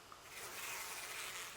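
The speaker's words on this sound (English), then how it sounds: "The bees continue to hover around the still Shimio." Bees hovering in the game Death Mark, a steady dense buzzing hum that fills the whole short stretch evenly and without breaks.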